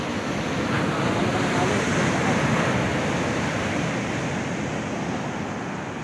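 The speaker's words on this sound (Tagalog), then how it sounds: "Mga alon sa pagsusurfing." Ocean waves break at a beach where people are surfing, a steady close surf roar with wind noise across the microphone and no clear talk.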